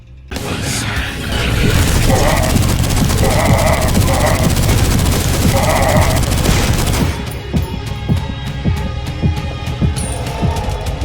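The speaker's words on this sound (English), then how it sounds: "Then, there is a rapid-fire machine gun that is especially useful when paired with the fast-fire totem." Rapid-fire machine gun in the retro shooter game Dusk, a loud sustained stream of fast shots with booming impacts and mechanical clatter, then easing into scattered single reports.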